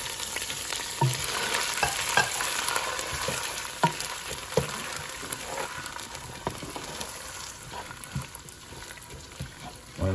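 Rice sizzles and fries in a pan for sweet rice, a loud continuous crackling hiss with scattered sharper pops and occasional stirring knocks close by.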